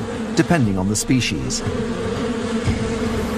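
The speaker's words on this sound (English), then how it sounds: "But soon the bees start to warm up and take to the air." Bees warming up and lifting into the air make a sustained, close buzzing drone while someone talks over the start of it.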